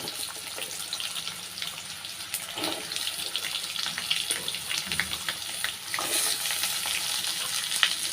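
Curry leaves and chopped raw mango with the skin on sizzle and crackle in a hot pan of oil for a sweet mango pachadi, a steady close frying hiss broken by occasional stirring clinks.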